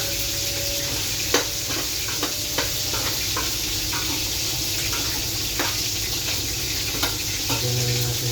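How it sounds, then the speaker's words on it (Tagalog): Pork ribs nilaga being stirred in a pot, with a steady simmering hiss and scattered sharp scrapes and knocks of the spoon against the pot, close and fairly loud, with no talking. "halo lang ulit."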